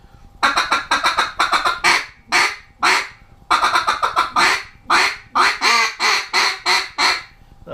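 Ma Barker duck call blown in loud, close quacking sequences, a rapid run of descending quacks, a pause, then another long cadence of emphatic quacks.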